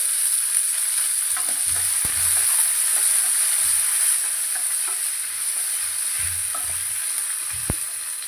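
Curry leaves frying in hot oil, a steady bright hiss and sizzle running throughout, with faint low knocks of a utensil against the pan now and then.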